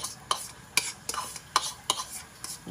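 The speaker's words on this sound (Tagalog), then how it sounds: "Igisa na natin yan. Halo natin yan lahat." Corned beef is sautéed and stirred in a pan. A utensil scrapes and clatters against the pan in about half a dozen quick, close strokes over a soft background sizzle.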